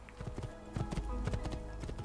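Horse hooves clip-clop at a quick, uneven gait in Assassin's Creed II, fairly close and moderately loud, with a voice briefly audible over the steps.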